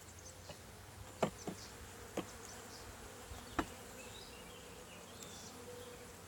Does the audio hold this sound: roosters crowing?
no